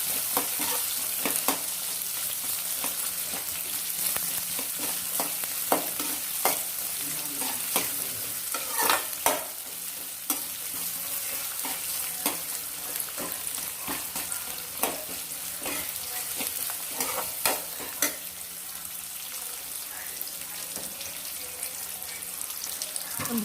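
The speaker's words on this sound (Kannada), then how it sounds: "ಸೊ ಹಾಗಾಗಿ ಫ್ರೈ ಆಗಲಿ ಈರುಳ್ಳಿ." Onions fry in a pan, a continuous low sizzle broken by frequent sharp clicks and scrapes of stirring, with brief running-water sounds in the background and no voices.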